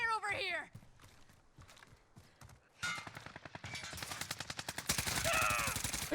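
Video game gunfire in Call of Duty Warzone: scattered single shots and footsteps give way to rapid automatic bursts that grow louder and denser toward the end, with players' voices talking over the action.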